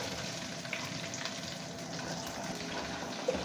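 Chopped onions fry in hot oil for Afghani Kabuli pulao, a soft steady sizzle close by with a few light clinks, quiet and without talk.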